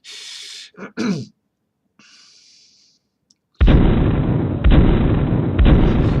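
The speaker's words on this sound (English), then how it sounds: "it should play that explosion after each loop" Explosion sound effect triggered by a sprite animation, booming loudly and repeating in a loop, with three blasts following close on each other after a few seconds of quieter noises.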